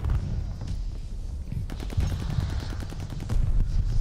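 Rapid bursts of automatic gunfire from the Gracey Auto pop-gun in Call of Duty battle royale, a fast rattling string of shots that briefly pauses, then resumes and grows louder toward the end.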